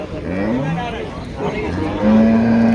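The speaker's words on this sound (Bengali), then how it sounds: "হলেস্টিয়ান ফিজিয়ান গাভি দেখা যাচ্ছে" Holstein Friesian cattle lowing with drawn-out moos, one long steady call at the end, amid a busy background of voices and general noise at the Mirshanni cattle market in Cumilla.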